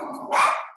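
A single sharp dog bark sounds close and loud on its own, brief and abrupt.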